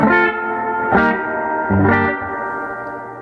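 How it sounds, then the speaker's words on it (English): Electric guitar through a 1968 Fender Princeton Reverb with reverb set at 5.5, three loud strummed chords each trailing into a long, lush reverb wash, heard alone with no voices. "hear how long and lush the decay on that reverb is"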